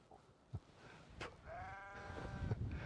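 Sheep bleat outdoors, with one drawn-out wavering bleat near the middle and fainter calls around it, set against quiet background noise.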